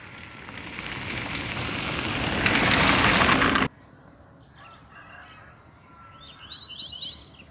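A steady roar of noise gives way to quiet outdoor ambience in Brazilian bush, then small wild birds, seed-eaters such as the papa-capim, begin calling in quick, high, repeated chirps toward the end, fairly close.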